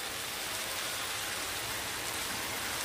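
Chicken frying in a pan with curry leaves gives a steady, loud, even sizzle that runs unbroken from start to end, with no voices over it.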